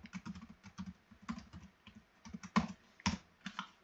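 Quick, light keystrokes clatter on a computer keyboard in an uneven burst of taps, close and fairly quiet, with a couple of sharper key hits near the end.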